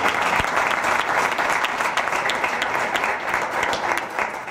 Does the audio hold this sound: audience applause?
yes